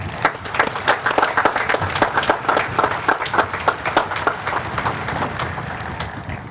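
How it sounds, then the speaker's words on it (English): Audience applause at a high school graduation commencement, a dense, steady burst of many hands clapping that fills the space and holds at an even level throughout, with no voices rising above it. "Let's jointly give them all a round of applause."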